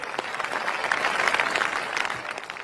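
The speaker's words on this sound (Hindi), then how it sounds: "जोरदार तालियां बजाकर स्वागत कीजिए" A crowd at a wrestling competition claps steadily and loudly to welcome guests, a dense, continuous burst of applause with no speech over it.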